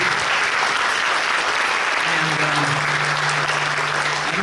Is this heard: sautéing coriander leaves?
no